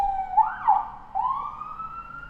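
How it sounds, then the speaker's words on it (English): A wailing emergency siren outside a house on a San Francisco street rises and falls in pitch, sweeping up and holding a long steady tone, somewhat distant and continuous. "that's the sirens outside my house."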